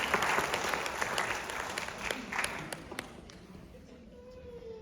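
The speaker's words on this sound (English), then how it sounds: "please give a huge round of applause" A theater audience at a mentalism magic show breaks into full applause for a volunteer, dense steady clapping that fades out toward the end, with a few voices in the crowd.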